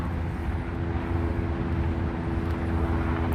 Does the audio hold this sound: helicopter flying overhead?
yes